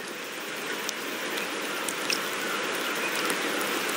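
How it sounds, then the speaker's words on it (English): Steady rain falling in Septimont, a dense, even hiss of drops with scattered brighter patters, continuous and moderately loud for the whole stretch with no voices. "The rains in Septimont never seem eager to leave this season."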